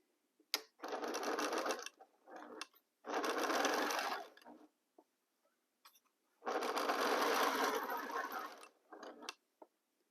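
A sewing machine stitches fabric pieces in three quick bursts of rapid mechanical whirring, close and fairly loud, with short clicks and pauses between the runs.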